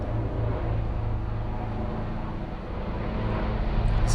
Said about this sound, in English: There's a helicopter going over the tropics.